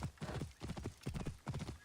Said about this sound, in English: I like the horse riding.